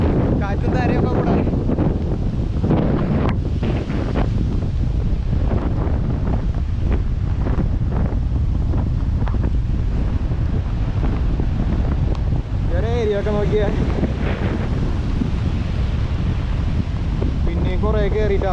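Strong wind batters the microphone on a rainy coast as rough sea waves roll and crash, a continuous loud roar with gusts, and a person's voice is heard briefly under the noise.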